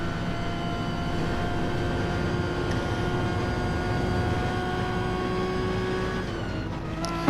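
Several racing car engines drone steadily together on the Monza circuit in a racing video game, a continuous loud mechanical hum with whining harmonic tones holding throughout, no talk over it.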